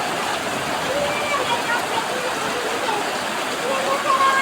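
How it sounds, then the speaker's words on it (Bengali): Heavy rain falls in a steady, unbroken hiss, loud and even from start to finish. "অনেক অনেক বৃষ্টি হচ্ছে, প্রচুর।"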